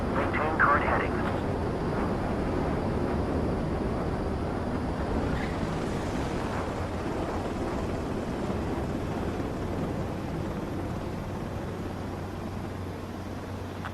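Jet fighter in Ace Combat 7 gliding in on final approach to a runway landing, a steady broadband roar of engine and airflow holding even and fairly loud throughout, with speech over it.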